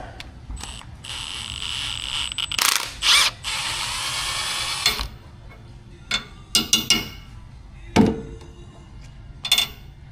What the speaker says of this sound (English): crush washer with pliers